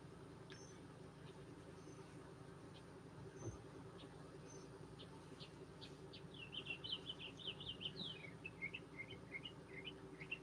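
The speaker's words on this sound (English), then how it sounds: "you'll be able to hear both some birds and some combustion engines this morning" Faint birdsong chirps and trills over a steady low rumble of combustion engines outdoors on a late-May morning, growing busier toward the end.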